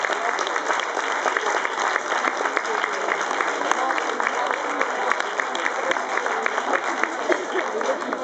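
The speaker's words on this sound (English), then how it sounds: "A good round of applause," Spectators at a puppy dog show ringside applaud two finalist puppies, with continuous, even crowd clapping filling the space at a steady level from start to finish.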